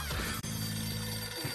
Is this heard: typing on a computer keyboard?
no